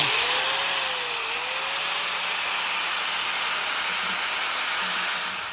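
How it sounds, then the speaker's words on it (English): A power grinder works on notches cut into a Honda 450R spark arrestor, giving a steady high whine and hiss with a slight pitch wobble, close and continuous without talking. "I just grind them smooth so that way they're not sticking up at all"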